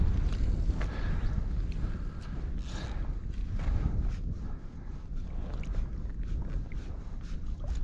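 Steady wind gusts over a lake under bright, glary conditions, a continuous low rumble with broadband buffeting against the microphone, loud and close, with no talking.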